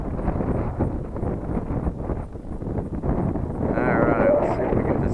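Strong wind buffets the microphone around a small brushless Eachine Mini P47 Bubble Top RC plane flying in high gusts, a steady loud rumble that swells louder toward the end, with a faint motor whine rising briefly.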